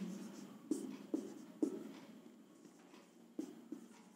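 Chalk taps and scratches across a classroom board during a physics lecture on wave optics, several distinct strokes with sharp onsets and short scraping tails, close and fairly quiet with no speech.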